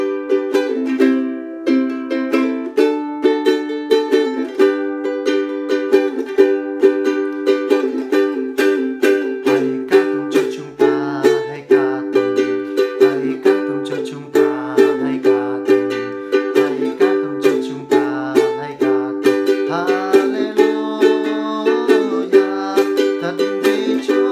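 Budget Diduo ukulele of pressed mahogany with nylon strings, strummed and picked in a steady, bright melodic pattern for about 24 seconds, close and fairly loud with no talking.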